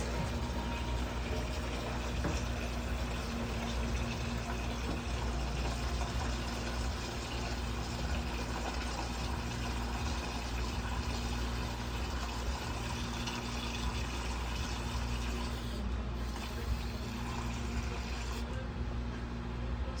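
Water running steadily into a large container, filled to the 3.5-quart line for cold brew coffee, a continuous even rush with a low hum beneath it, no voices.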